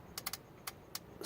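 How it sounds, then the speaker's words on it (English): Car solenoid clicking as it engages when a pin is jumped, a few faint sharp clicks in quick succession, one pair then single taps, quiet and close with no talking. "solenoid B is clicking and engaging."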